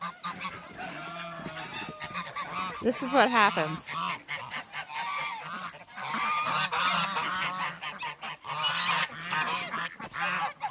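Geese honk loudly on cold farm water, repeated nasal calls overlapping in a busy chorus, with ducks splashing nearby and a person speaking briefly over the noise.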